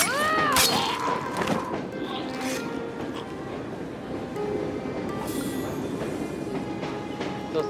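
Train rolling past in Assassin's Creed Syndicate, a steady rumbling wash with rattling clatter, fairly close and filling the whole stretch, with a few brief higher tones near the start.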